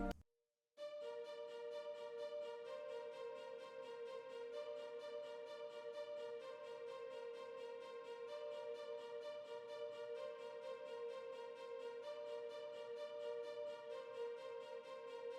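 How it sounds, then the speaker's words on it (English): Staccato strings play a steady, rapid arpeggio in a progressive house track, panned fully left, the evenly pulsing notes repeating without a break after a short silent start. "For the string arps, we are using staccato strings, and I have panned them completely in the left"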